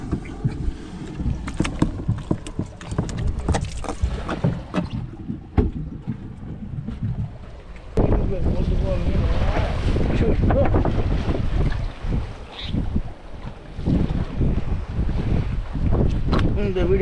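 Strong sea wind roars and buffets across a small fishing boat out in the deep sea as rain approaches, a steady loud rush that intensifies midway, with voices talking intermittently beneath it.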